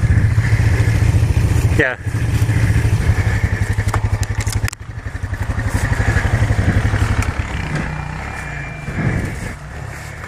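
A motorcycle engine runs steadily and loud up close, its low throbbing continuing under brief shouted talk, with a short dip in level partway through before carrying on.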